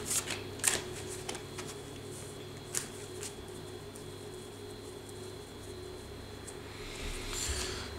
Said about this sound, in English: These cards I'm drawing for you right now are the 3 keys of your liberation.